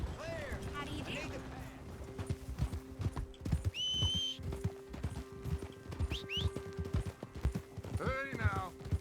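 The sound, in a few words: horse hooves and neighing in video game Red Dead Redemption 2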